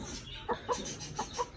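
Chickens in a backyard pet coop give a few short, moderately close clucks spaced about a quarter second apart over a low background hum.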